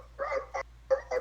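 A person imitates a dog barking, giving four short yappy woofs in quick succession, close and clear.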